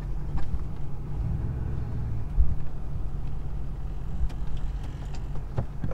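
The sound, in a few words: Ford F450 pickup truck driving off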